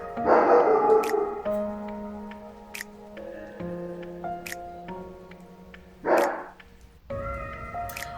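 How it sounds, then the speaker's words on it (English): A dog barks in two loud, rough bursts, one near the start and another about six seconds later, over steady tonal background music. "My dog."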